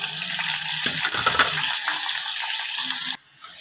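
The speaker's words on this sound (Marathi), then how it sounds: "आता आपण कांदा परतून घेऊ" Onion sautéing in a pan of hot oil with cumin, mustard seeds and curry leaves for paneer rice: a steady close sizzle with soft stirring scrapes, cutting off abruptly near the end, no talk.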